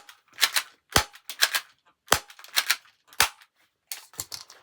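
A SIG Sauer P223 airsoft pistol fires BBs in a string of sharp, loud snapping shots, roughly five or six spaced irregularly about half a second to a second apart, each followed by a brief clattering tail.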